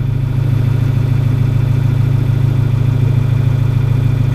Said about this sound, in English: shut the PTO off here. Let the tractor cool down just a hair, about 30 seconds or so.